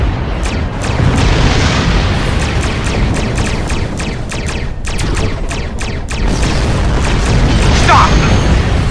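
A destroyed target exploding in space combat in Star Trek Online, a series of loud booming blasts and crackling bursts rolling one after another, with game voices talking over the action.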